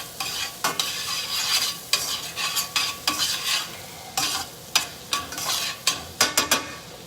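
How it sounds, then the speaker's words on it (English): Butter melting with shallots in a pan, stirred with a utensil: repeated scraping strokes and soft sizzling at close range, with no voices. "let the butter melt"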